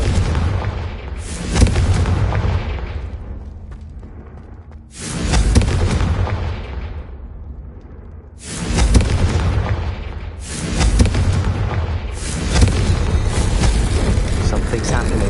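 The Confringo fire spell in the video game Hogwarts Legacy sets off a series of loud, booming blasts, about five in all, each with a long rumbling decay.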